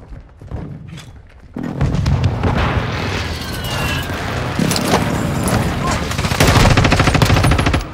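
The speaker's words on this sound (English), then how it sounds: "Friendly airstrike in the AO." Airstrike explosions in Modern Warfare 2 on the Santa Sena Border Crossing map, a loud dense barrage of booms mixed with rapid gunfire that swells after a quieter start and rumbles continuously to the end.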